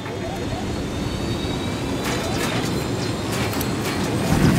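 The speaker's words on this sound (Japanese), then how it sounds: "伏せろ、ヘリコプターだ。" A helicopter approaches in the open-world shooter Ghost Recon Wildlands, a steady broadband rotor and engine rumble that grows slightly louder toward the end, with no talk over it.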